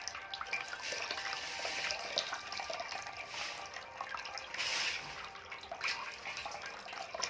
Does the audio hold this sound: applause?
no